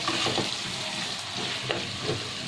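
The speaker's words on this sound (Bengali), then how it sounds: "আমি ভালোভাবে পেঁয়াজটা এর মধ্যে ভেজে নেব" Onions fry in a pan with a constant crackling sizzle and occasional scraping stirs, close and without any talk.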